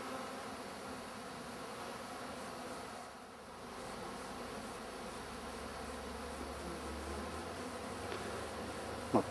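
Many honey bees buzz at their hive in a dense, continuous drone, a soft steady hum close by with no talking.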